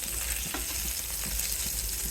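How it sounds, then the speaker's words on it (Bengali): Diced papaya frying in oil in a pan at home, a steady close sizzle with faint stirring, no voices. "মশলা রেডি করতে করতে আমার পেঁপে ভাজা হয়ে গেছে নামিয়ে ফেলবো"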